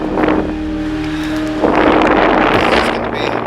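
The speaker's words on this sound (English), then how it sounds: "It's gonna be trying to set up so the wind's not barreling down on us the whole time." Wind blowing outdoors along the Black River in Arizona, a steady broadband rush that swells louder and gustier about halfway through, with a faint voice low in the background.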